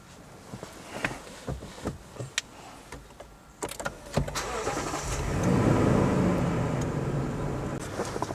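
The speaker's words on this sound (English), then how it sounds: "I am going to go ahead and turn on my truck." A truck engine is started after a series of sharp clicks and knocks; the starter cranks and the engine catches, settling into a steady idle close by, no talking.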